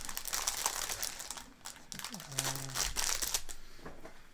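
Crinkly plastic Lego sticker decal sheet handled close up, rustling and crackling in short bursts, with a few faint tonal sounds in the background.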